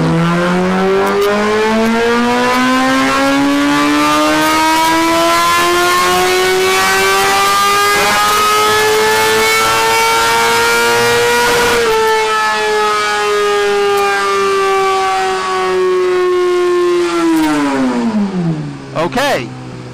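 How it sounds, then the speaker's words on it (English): A 2017 Suzuki GSX-R1000 motorcycle held at wide-open throttle on a loading dyno, its engine note climbing slowly in a long rising wail, then easing back and dropping sharply near the end, loud and close. "you hear how the dyno is loading?"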